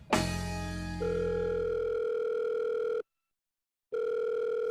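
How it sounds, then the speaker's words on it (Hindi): A mobile phone call rings unanswered: a loud, steady electronic ring tone with strong tonal bands runs for about three seconds, breaks off into a second of silence, then starts again. "फोन क्यों नहीं उठा रहा है अब?"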